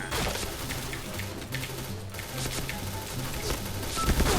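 A gun in a video game fires in dense, crackling bursts close and loud throughout, with faint background clatter.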